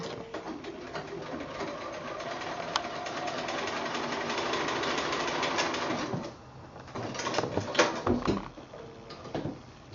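Domestic sewing machine stitching a quilt block, a steady motor whirr with rapid needle rhythm running for several seconds before stopping, followed by quieter handling clicks and knocks.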